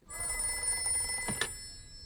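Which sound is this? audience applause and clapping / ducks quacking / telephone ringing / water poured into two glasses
telephone ringing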